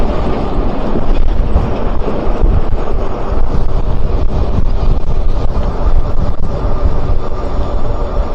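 Strong wind roars loud and constant across the microphone while riding an electric bike on a windy day, a dense low buffeting rumble with no speech.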